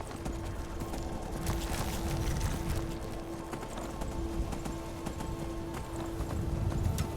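Horse hooves clip-clop in a steady, quick rhythm across open ground in Skyrim Special Edition, close and continuous throughout, with a faint sustained tone behind them.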